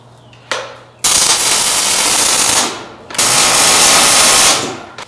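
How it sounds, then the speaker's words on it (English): Welding a steel ballast tank onto a homemade submarine, loud sustained crackling buzz in two long runs separated by a brief pause. "Now I'm gonna weld it up."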